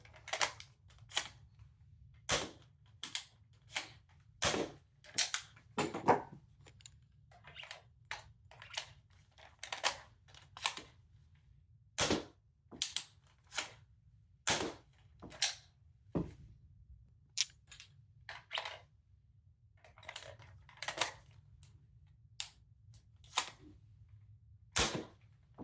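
Realistic Nerf shotgun firing foam darts from the right barrel, a long series of sharp, snappy pops and clacks in an irregular rhythm, loud and close over a low steady hum, with no talking.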